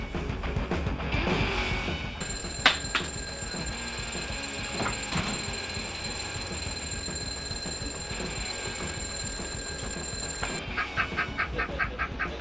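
A novelty alarm clock rings with a steady, high electronic tone that runs for about eight seconds. It comes in over some background clatter and is followed by rapid beeping pulses.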